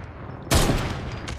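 Gunfire in Fortnite Battle Royale, shooting at a wall: after a quiet, low background, a sudden loud burst of shots hits with crackling impacts, then stays noisy with a second sharp report near the end.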